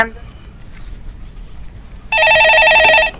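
Telephone on a live call-in stock-market broadcast gives a loud electronic warbling ring for about a second after a brief stretch of quiet studio sound, with a faint voice just at the start.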